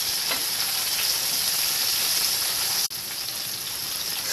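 Bombay duck fish frying in a pan over a high gas flame, a steady, dense sizzle that holds loud and even throughout, with one brief dip before it resumes.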